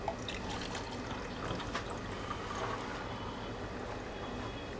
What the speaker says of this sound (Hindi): चलिए इसमें पहले हम पानी भर लेते हैं।